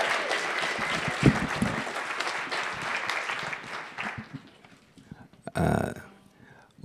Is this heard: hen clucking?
no